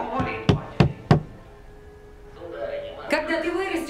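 Four firm knocks on a door in a quick, evenly spaced series, followed by a pause and then a voice speaking.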